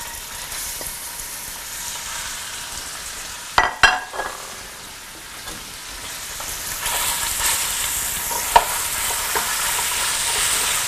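Half a pound each of ground beef and ground pork cooks in a pan with a continuous frying hiss, a few sharp utensil knocks midway, and sizzling that grows louder toward the end.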